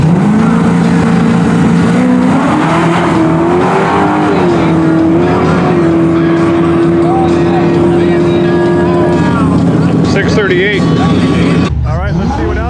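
Nitrous-fed Chevy Nova drag car roaring loud and steady down the strip, its engine note climbing in pitch through the run before fading, with crowd noise and a voice mixed underneath.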